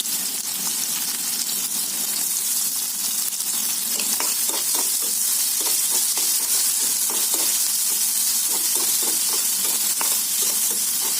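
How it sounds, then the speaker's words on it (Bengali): Chopped onion, garlic and ginger frying in oil in a pan for a chicken dish: a loud, continuous crackling sizzle with frequent rhythmic scraping strokes of the spatula, close up and without speech. "পেঁয়াজ রসুন দিয়ে দিলাম আর আদা কুচি দিয়ে দিলাম"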